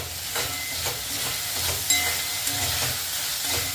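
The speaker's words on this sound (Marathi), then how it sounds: "छान परतवून घेऊया" Veg Hakka noodles with green chilli sauce stir-fried in a hot pan, a steady loud sizzle broken by the scrape and clatter of tossing, with a couple of sharp metallic clinks near the middle.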